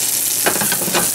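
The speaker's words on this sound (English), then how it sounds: "we're gonna melt our butter, and I'm gonna toast my chili a little bit because they got soggy" Chilies toasting in melted butter in a pan give off a steady, close sizzle with a few stirring scrapes, and no one speaks.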